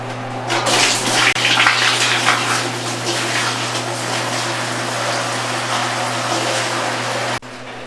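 Clean water from an aquarium system is scooped and poured into a bucket, a steady close rush of splashing and pouring water that runs without pause, with a low constant hum beneath.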